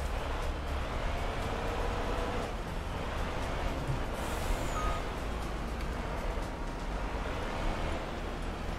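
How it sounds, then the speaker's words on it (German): A truck in Farming Simulator 22 drives and shifts position, its steady engine rumble continuous and fairly loud throughout, with a faint reversing beep woven into the mix. "Ich nehme mal den LKW hier ein bisschen auf die andere Seite."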